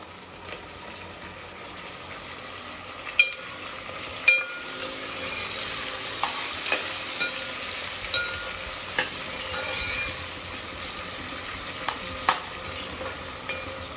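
Tomatoes stirred into sizzling Khandeshi khichdi masala, a continuous frying hiss with regular spoon scrapes and light taps against the pan, no voices.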